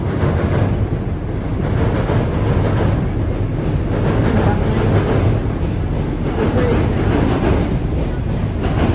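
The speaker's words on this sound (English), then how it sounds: "Here comes the train." A loud, continuous rumble of a passing train in Chicago fills the scene, mixed with heavy wind buffeting, steady from start to finish.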